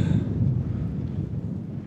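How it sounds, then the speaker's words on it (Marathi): Strong wind blows at a high mountain roadside in Ladakh, a steady low roaring buffet across the microphone with no other clear sounds. "वारा जबरदस्त चालू आहे."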